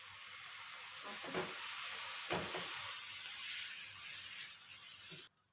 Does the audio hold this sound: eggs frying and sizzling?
yes